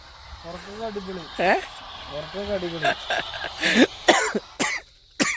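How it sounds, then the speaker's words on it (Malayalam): A person coughs several times in short bursts amid talking, the coughs close and fairly loud, mixed with speech between them. "എനിക്ക് ചെറുതായിട്ട് ചുമയും പിടിച്ചിട്ടുണ്ട്"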